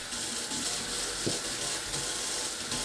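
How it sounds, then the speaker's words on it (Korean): Burdock root rinsed under running water in a kitchen, a continuous close splash and gush of water with a few light knocks against the root, lasting the whole time. "물에 헹궈 준비합니다"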